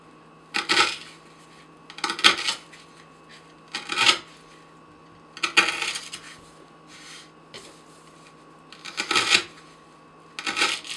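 A Kershaw Tilt knife with a Vanax75 steel blade slices through rope in repeated strokes, each a short, crisp rasping burst up close, about seven cuts spaced by brief pauses.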